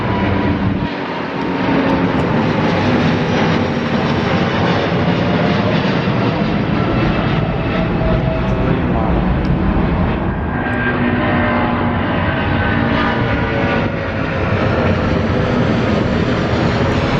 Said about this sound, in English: next up is the North Atlantic 787-9 Dreamliner off to Miami